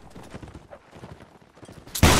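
Musket volley in Napoleonic Wars: a low murmur of shuffling and distant noise, then a sudden loud crackling burst of many muskets going off together at the end.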